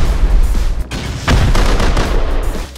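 Gunfire in the survival game Rust, several loud booming shots close together with a heavy blast in the middle, ringing over a low rumbling background.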